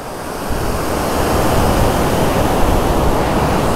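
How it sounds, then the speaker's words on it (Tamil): Mallalli Falls in the Western Ghats during the monsoon, a heavy, steady roar of falling water heard loud and unbroken as a constant broadband rush with no voices. "எந்த வாட்டர் ஃபால்ஸ் பார்த்தா செம்மையாக இருக்குதுங்க"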